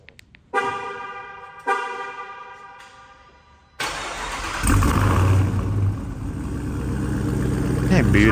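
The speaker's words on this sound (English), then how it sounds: "now I'm gonna give you guys a cold start" A Chrysler 300 fitted with a Trackhawk engine cold-starts: two short chime-like tones, then the starter catches and the engine fires up loud and close, settling into a deep, rising idle rumble.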